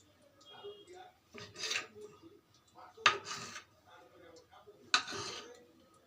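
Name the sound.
cutting a chicken vegetable roll with a knife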